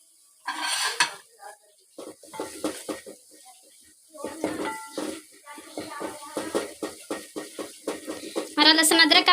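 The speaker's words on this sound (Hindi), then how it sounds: "अब हम डालेंगे लहसुन अदरक का पेस्ट और अच्छी तरह भूनेंगे।" A metal spoon stirs garlic ginger paste frying in a pot, scraping and clinking in irregular bursts over a soft sizzle, close and clear, ending in a brighter rising hiss, with no speech.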